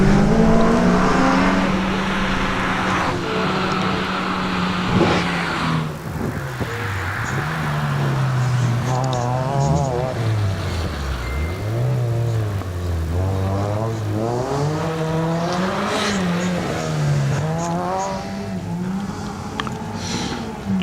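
A Nissan Pulsar race car launches and climbs at the Legend of the Lakes Hillclimb. Its engine note is loud and close, revving hard and sweeping up and down in pitch through repeated gear changes with no pauses.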